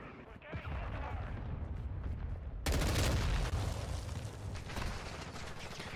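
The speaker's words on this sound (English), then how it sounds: "Cruise missile." Cruise missile explosions in Modern Warfare 2, a sudden loud heavy blast that rolls into a sustained booming rumble, following a quieter stretch of distant battle noise.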